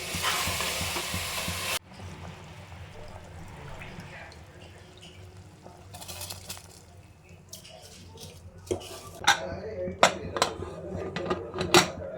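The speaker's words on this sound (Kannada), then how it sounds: "ಕಸೂರಿ ಮೇಥಿ, ಸ್ವಲ್ಪ ಮೊಸರು ಹಾಕಿ ಕಲಿಸ್ಕೊಳ್ಳಿ" Kasuri methi and yogurt are mixed into a chicken pulao preparation with scraping and clinking of a spoon against a pot, plus some sizzling. The stirring grows into sharper, irregular knocks toward the end.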